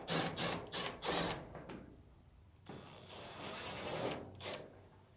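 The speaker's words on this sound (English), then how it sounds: "remove the two screws holding on the top cover." Screws being backed out of the top cover of a Samsung dryer, heard as several short ratcheting, whirring bursts with brief pauses, close and fairly loud, followed by softer scraping handling noises.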